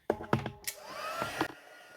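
A heat tool blows hot air over card stock for a Christmas card, a steady whooshing hum that runs under a few sharp taps and clicks at the start.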